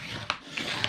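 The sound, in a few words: folding and burnishing scored paper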